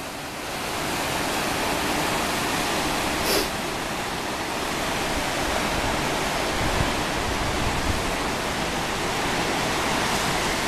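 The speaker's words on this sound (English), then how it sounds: "With the water rolling in." Sea water rolls in at Cudillero harbour, heard from high above near the lighthouse as a constant broad wash of surf and hiss that holds steady throughout, with one brief faint tick partway through.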